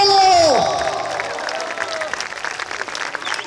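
An audience at the Ficarolo Talent Show 2022 breaks into applause, a dense, steady wash of many hands clapping that rises as a sung or held tone fades out at the start.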